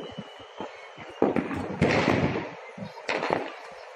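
Firecrackers go off at a house across the street in Ludhiana, heard as a few sharp cracks and bursts at moderate distance amid quiet night background.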